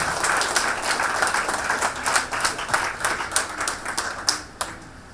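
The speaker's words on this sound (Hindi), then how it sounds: "एक बार इस हॉल को इतने जबरदस्त तालियों के साथ गूंज दे" Applause from an audience fills a hall, a dense steady wash of many hands clapping with a few sharper claps standing out, continuous throughout and without talk.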